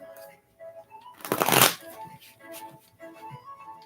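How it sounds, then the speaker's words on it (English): A quick riffle of playing cards being shuffled, a brief dense flutter close by, surrounded by soft background music. "Let me shuffle the cards good."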